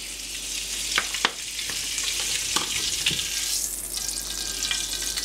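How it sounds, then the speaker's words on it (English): Margarine sizzling steadily in a frying pan, a continuous crackling hiss with a few sharper pops and spits, close by. "You can see it's sizzling up."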